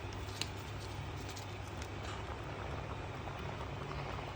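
A pan of seafood rice broth (fumet) with saffron boils steadily, a faint continuous bubbling hiss with small pops, quiet and even throughout, with no talking.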